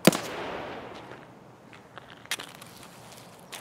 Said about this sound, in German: Von links kamen auch noch Schüsse.